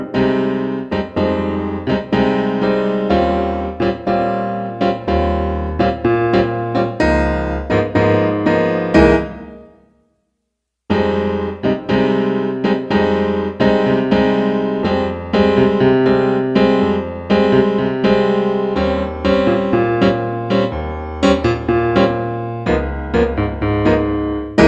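Solo piano plays the chords of a jazz tune with a low bass line underneath, a steady rhythmic comping pattern that stops briefly partway through and then resumes, loud and close.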